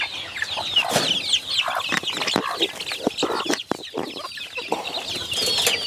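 A mother hen and small chicks cluck and chirp busily while pecking at melon, a close, continuous chatter of overlapping calls with scattered taps.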